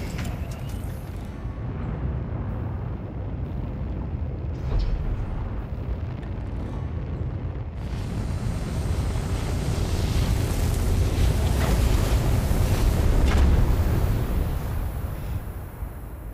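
A spaceship in Stellar Blade, running on a weak auxiliary engine, gives a steady, low, windy rumble that swells louder toward the end, with no voices.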